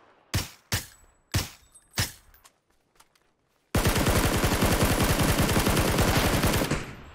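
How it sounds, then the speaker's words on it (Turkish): Four single rifle shots ring out in PUBG with distinct echoing tails, then after a short gap a long sustained automatic burst of rapid, evenly spaced gunfire runs loud for about three seconds before cutting off. "Sana sıktı. Birisi sıktı."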